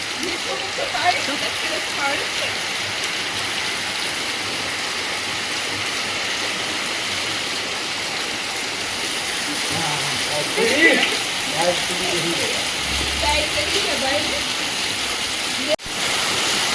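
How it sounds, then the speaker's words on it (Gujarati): Rain pours down on a village street in a dense, continuous hiss that runs the whole way through, with faint voices now and then beneath the downpour. "ફાઇનલી વરસાદ ચાલુ થઈ ગયો છે"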